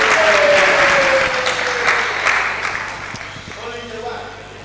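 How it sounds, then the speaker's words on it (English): An audience claps warmly for a guest at a school renewable energy challenge event, steady dense applause that gradually fades, with a faint voice underneath. "Let's give her a clap for joining us."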